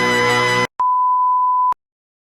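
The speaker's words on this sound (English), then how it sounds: "Sorry, I'm getting a lot of notifications." A phone notification sounds: a short burst of harsh buzz, then a single sustained pure electronic beep about a second long, loud and isolated, followed by silence.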